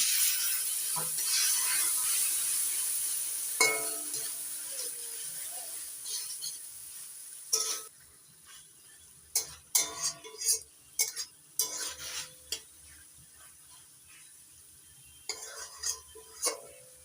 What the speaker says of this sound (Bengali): মশলা ধোয়া জলটা দিয়ে মশলাটা ভালো করে কষিয়ে নিচ্ছি